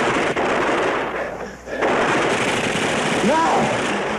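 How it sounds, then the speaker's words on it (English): Sustained gunfire in a 1960s war TV drama, with soldiers shooting into the trees: dense, continuous bursts of rifle and machine-gun fire fill the whole stretch, briefly dipping near the middle before resuming at full, close intensity. "Fire into the trees."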